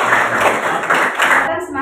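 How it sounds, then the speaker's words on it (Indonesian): A classroom group receives applause during a high school peer-teaching lesson; dense, fast clapping from several students fills the short moment close by, then cuts off abruptly. "tepuk tangan untuk kelompok"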